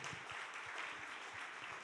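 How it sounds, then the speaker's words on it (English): Steady applause from a gala crowd, a dense wash of clapping that continues evenly throughout without pauses. "That deserves a big round of applause"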